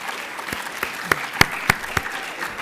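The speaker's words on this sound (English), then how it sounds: "let's give a big round of applause another time to our distinguished panel of judges" Applause from an audience for a panel of judges at a college public speaking competition, a smattering of distinct claps, sparse and moderately close, rising briefly and then thinning out.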